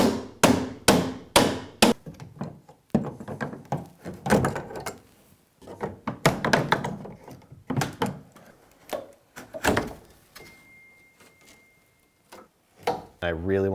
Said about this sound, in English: I'm gonna use my handy trim removal tool